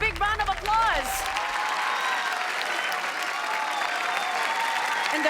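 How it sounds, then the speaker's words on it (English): Loud, sustained applause and cheering from the audience at the finale of the National STEM Championship. It follows a brief spoken announcement and continues as a steady, dense crowd roar through the rest of the clip. "Please give them a big round of applause."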